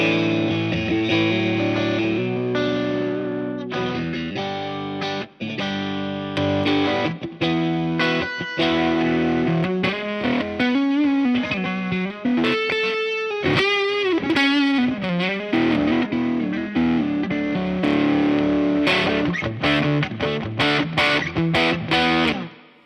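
A Boss CE-1 Chorus Ensemble pedal pushed to full input gain on a fat guitar tone gives a loud, continuous, thick driven sound with chords and riffs and a wavering chorus shimmer over about twenty seconds, with added reverb and no voices.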